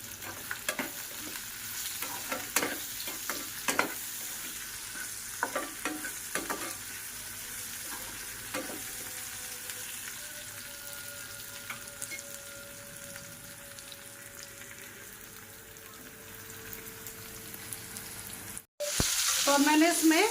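Capsicum, onion, ginger and garlic fry in a pan for Chinese food, a steady close sizzle punctuated by the scrape and clack of stirring in the early part, then a loud knock near the end.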